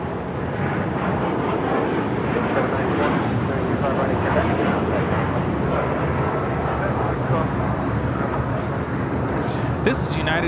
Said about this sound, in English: This is United Airlines Flight 39 taking off to Tokyo Haneda on the 787-10 Dreamliner